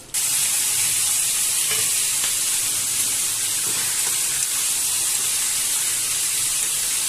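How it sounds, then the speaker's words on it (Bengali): Boiling water pours into fried chicken curry masala in a hot pan, setting off a loud, continuous sizzling hiss that holds steady from start to finish, heard up close with no voices. "চিকেনটা কষা হয়ে গেছে, পুরো গরম জল আমি ঢেলে দিচ্ছি।"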